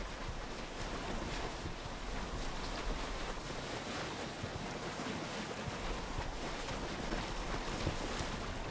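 Boat sailing through waves in the video game Assassin's Creed Odyssey: a loud, steady rush of surf and sea spray with wind buffeting throughout, continuous and unbroken, with no talk.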